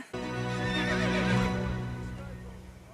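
A horse gives one loud, close neigh lasting about two seconds, with a quivering rise and a slow fade, in a period drama scene.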